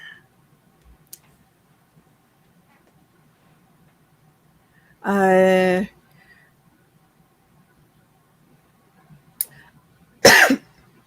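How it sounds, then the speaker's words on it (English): A single harsh cough breaks a quiet room, followed several seconds later by a second short cough. "The humidity has made me have some sneezes and some coughs"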